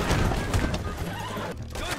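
A horse neighs in Red Dead Redemption 2, a loud, agitated whinny over dense game noise and hoofbeats, with a short dip near the end before the sound rises again.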